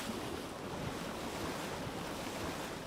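Sea waves rolling and washing in a dense, continuous rush of surf, steady and fairly loud with wind noise blended through, no voices.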